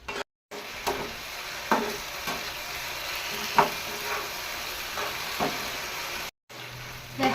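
Chilli paneer masala fries in a pan while tomato, chilli and soy sauces are stirred in. A continuous sizzle runs underneath, broken by repeated sharp spatula scrapes and taps. It is close-up and fairly quiet.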